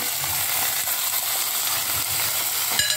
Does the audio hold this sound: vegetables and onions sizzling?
yes